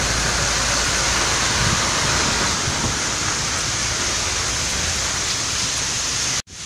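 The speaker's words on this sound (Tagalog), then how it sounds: "Nabutan ako ng ulan" Steady heavy rain pours down at Manila Bay in a continuous loud hiss, unbroken until it cuts off abruptly near the end.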